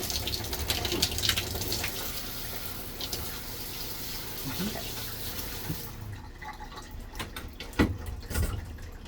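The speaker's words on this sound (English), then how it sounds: "Take our handle here, we'll turn it into our shower mode, and we have hot water." Hot water runs steadily from the shower head of a 2024 Tiffin Wayfarer 25RW RV in shower mode, a dense close hiss that thins out partway through, with a few small knocks and splashes.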